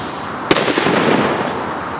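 Fireworks set off outdoors at night: one sharp, loud bang near the start is followed by a dense crackling rumble and fainter pops that fade away.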